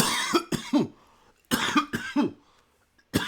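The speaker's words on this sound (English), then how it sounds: "I'm coughing." Several sharp coughs in two quick bursts, close and fairly loud, with brief pauses between, then one more short cough at the end.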